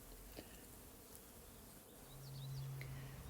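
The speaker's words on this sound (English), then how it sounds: "These two little bees, I believe, are sweat bees." Small sweat bees buzz faintly near a nest, a quiet outdoor hum with brief passes, then one buzz swells louder and closer for about a second near the end.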